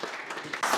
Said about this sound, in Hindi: एक बार ताली बजाओ इनके लिए।